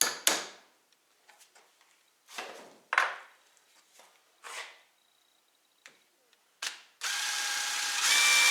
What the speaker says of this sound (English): So now we just need to drill a hole.